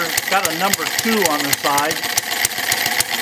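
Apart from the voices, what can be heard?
small model engine idling on commercial carburetor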